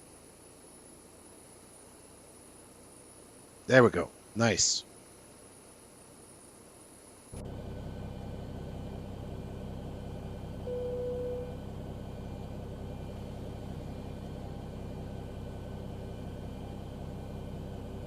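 A Boeing jet engine spooling up in the X-Plane 12 flight simulator, a steady broadband whoosh and rumble that begins abruptly partway through and holds, after someone speaks briefly.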